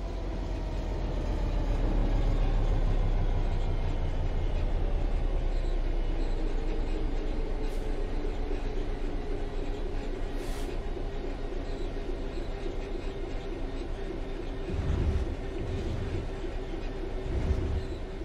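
A train coasting on level ground in the Train Sim World 3 game: a steady rolling rumble with a faint motor whine, a few soft rail clunks late on, and no voices.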